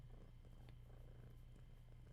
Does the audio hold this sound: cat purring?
yes